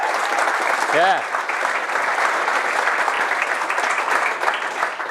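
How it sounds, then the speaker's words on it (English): A crowd at the Liverpool Tester Gathering, a software testers' meetup, applauds steadily and loudly throughout, with a single brief spoken word near the start. "So I think that's a round of applause."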